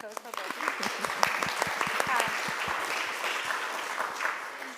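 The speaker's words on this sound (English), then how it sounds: "Applause for Betty." Audience applause at a film screening and artist Q&A, a room of hands clapping in a dense, steady patter that runs throughout, with voices mixed in beneath the clapping.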